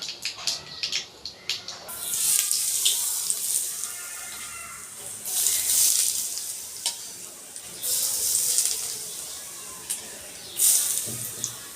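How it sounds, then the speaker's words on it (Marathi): A tempering of cumin and mustard seeds for khaman dhokla sizzles in hot oil, with loud, close bursts of crackling hiss that rise and fall in waves after a few quiet clicks. "इथे आपण फोडणी करतोय ढोकळ्यांसाठी।"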